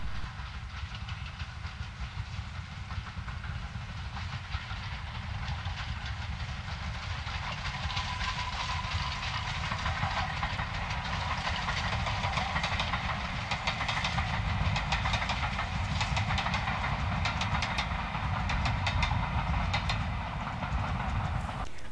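N2 locomotive passing southbound on the East Lancashire Railway, a continuous rumble with rail clatter and hiss, holding steady throughout.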